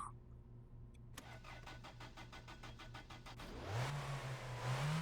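A car engine in the game My Winter Car cranks and fires up on a cold, iced-up morning with the choke on, then revs rising twice, loud and close with no talk.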